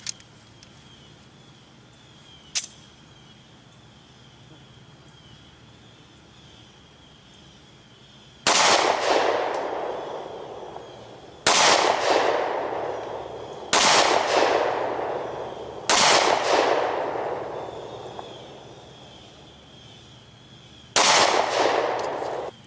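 9mm pistol firing Remington FMJ ammunition at an outdoor range, five loud, sharp shots spaced a few seconds apart, each with a ringing echo that fades, after a quiet stretch with one faint click.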